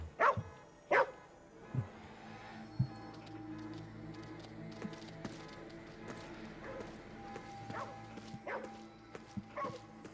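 Shiba dogs in the video game Ghostwire: Tokyo give a few sharp yips and barks, loudest at the start and scattered later over a low background hum.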